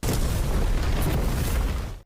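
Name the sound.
explosion from a clash of powers in the animated series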